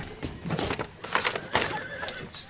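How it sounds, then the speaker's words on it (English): Horses neigh and whinny in a panic during an 1883 Krakatoa eruption drama, several loud, shrill calls overlapping with faint hoof clatter and a little background voice. "The horses are out of control."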